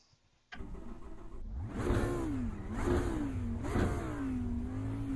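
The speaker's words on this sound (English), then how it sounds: "I'm gonna rev the engine." GT3 race car in a racing video game at Laguna Seca, engine starting up then revving repeatedly in three rising and falling surges over a steady idle, loud and close with no talk.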